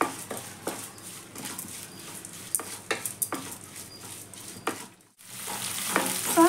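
Ingredients for raw mango chitranna frying until crisp in a pan, a continuous crackling sizzle with repeated sharp spatula clicks and scrapes, close, ending in a brief hush before a louder burst of sizzling.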